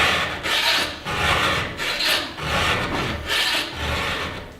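A hand file sharpens a chainsaw chain with about four slow, rhythmic rasping strokes, each a gritty scrape followed by a brief pause, close and clear.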